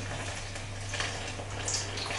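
Water is poured into a bowl for sourdough bread dough, a continuous splashing gush running steadily under a low background hum, fairly quiet and with no one speaking.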